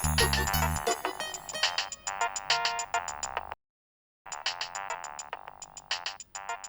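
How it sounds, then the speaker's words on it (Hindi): A phone ringtone plays in a domestic drama scene, a bright repeating electronic melody of short pinging tones that cuts out briefly, then resumes at steady volume. "भाईजान के फोन।"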